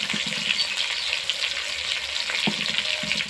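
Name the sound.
fish frying in oil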